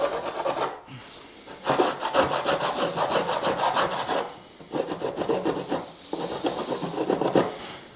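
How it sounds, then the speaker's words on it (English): Sandpaper rubbed back and forth along the cut edge of a fiberglass bumper, several bursts of close, steady scratchy strokes separated by short pauses. "And grab a piece of sandpaper."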